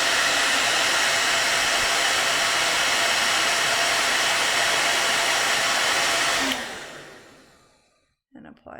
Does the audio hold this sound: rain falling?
no